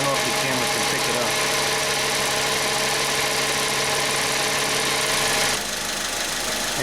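A noisy AC compressor on a Honda runs while the engine idles, a steady loud mechanical drone with a rough knocking texture that drops in level near the end.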